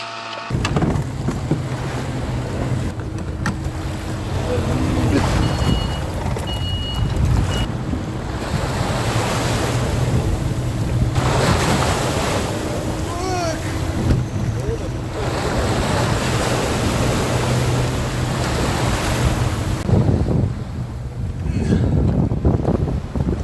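Strong wind roars across the sea with waves and surf around a boat out octopus fishing, a steady loud rush of gusts and water throughout, with faint voices briefly under it.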